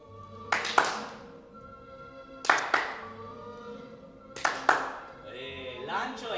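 Two groups of sharp hand claps ring out between ball tosses during a juggling lesson, each burst a quick double clap close to the microphone, followed by a third pair, with quiet room tone in between.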